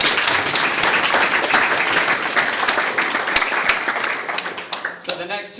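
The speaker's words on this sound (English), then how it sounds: "Another round of applause for these guys." Sustained crowd applause and clapping at the BrumHack hackathon's live demo and prize session, dense and steady for several seconds before thinning into scattered claps as a voice starts speaking near the end.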